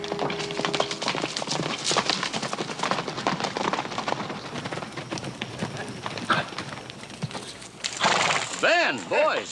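Horses neigh and whinny loudly while hooves clip-clop on the ground in an old Western drama scene, with people talking over the commotion.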